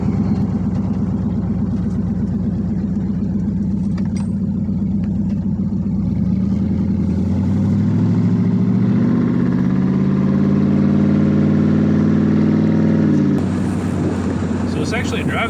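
LS-swapped Chevrolet Caprice wagon running with its V8 engine droning steadily, rising slightly in pitch as it pulls away, heard close from inside the car while someone talks over it.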